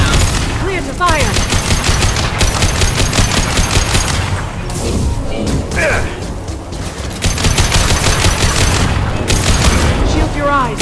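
Gunfire in the Mass Effect 2 video game, from the Lair of the Shadow Broker: dense, loud bursts of rapid shots with booming impacts roll on almost without pause, under and between spoken game dialogue.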